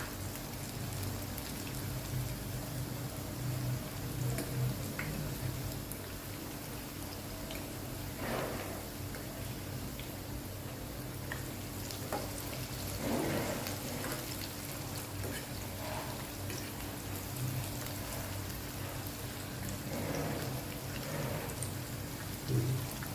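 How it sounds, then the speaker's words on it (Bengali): Shrimp and lentil fritters frying in hot oil give off a soft, steady sizzle with scattered pops and crackles, fairly quiet and without talk. "এবার এক পাশ ভালো মতো ভাজা হওয়া পর্যন্ত অপেক্ষা করতে হবে"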